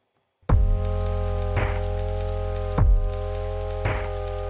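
A continuous rain sample in a lofi beat, pumped by sidechain compression so it swells and dips with each heavy low kick, layered under steady sustained synth chords.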